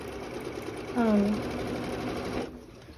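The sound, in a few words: sewing machine sewing quilt binding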